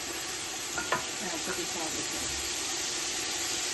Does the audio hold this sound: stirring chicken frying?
yes